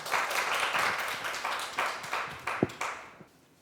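An audience at a youth policy proposal presentation contest applauds student presenters in a brief burst of clapping that tapers off within a few seconds, ending with a few scattered claps and a single tap.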